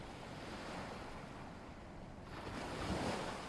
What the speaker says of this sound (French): Chaque petite vague vient doucement embrasser le rivage